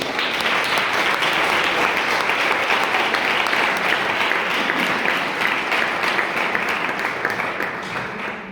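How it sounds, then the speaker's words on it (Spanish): Applause from the audience at a youth gathering, many hands clapping in a loud, sustained wash that fades slightly toward the end. "le damos un aplauso"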